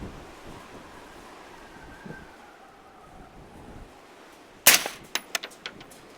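An MK12 SPR rifle firing at a steel target outdoors: after a stretch of wind noise, a sharp crack rings out, then several quicker, fainter pops and clangs follow in an uneven string.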